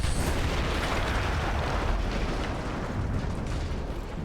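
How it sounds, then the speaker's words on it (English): A large explosion in the Battlefield 1 campaign rolls on as a broad, sustained rumble with crackling debris, moderately loud and heard alone without talk. "That explosion was one of the sweetest sights of the war for me."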